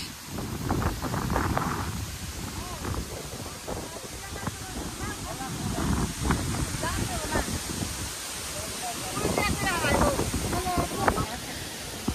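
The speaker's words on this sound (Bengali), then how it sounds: "এই দেখেন খালি কি পরিমাণ বাতাস।" Strong wind gusts across open countryside, roaring and buffeting the microphone in surges while a person talks over it.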